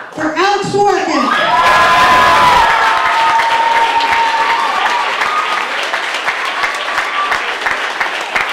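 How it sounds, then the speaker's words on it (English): Loud audience applause and cheering with whoops from a comedy club crowd greeting a stand-up comedian, dense steady clapping sustained throughout. "Alright, I want you guys to put your hands together and clap real hard for Alex Dworkin."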